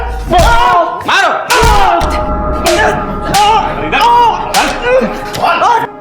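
Hard thudding blows and slaps as people beat a man in a police lockup in a Crime Patrol drama, several loud impacts about a second apart, some with sharp smacks, while voices shout and grunt in between.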